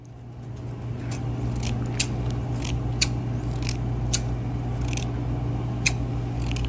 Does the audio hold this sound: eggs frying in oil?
no